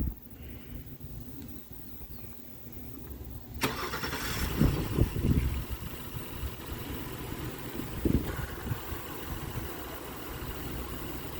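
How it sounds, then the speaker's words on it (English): A 2022 Honda Pilot Special Edition AWD starts by remote: quiet ambience, then a sharp starter crank near four seconds as the engine catches and settles into a steady idle hum, with a brief surge around eight seconds. "then press and hold the remote start button."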